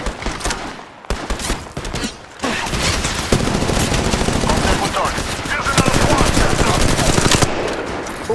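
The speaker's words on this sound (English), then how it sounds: "Taking fire!" Bursts of automatic gunfire ring out in an Apex Legends battle royale match, loud and rapid, dense sustained volleys after a brief lull, with game voice callouts mixed in.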